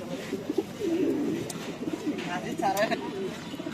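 An Indian Lotan pigeon cooing among other pigeons at a pigeon market, soft throaty coos and a brief warble close by, with people talking over them.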